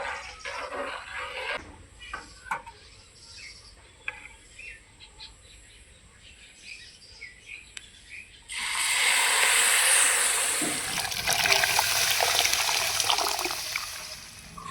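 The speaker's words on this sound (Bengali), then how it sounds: "এখন ডালটাকে ফোড়নে দিয়ে দেবো। ডালটাকে একটু নেড়ে চেড়ে দিচ্ছি।" Masoor lentil dal tipped into hot tempering of onion and turmeric in a pan. Quiet stirring and scraping come first, then a sudden loud, sustained sizzle that keeps hissing while the lentils are stirred.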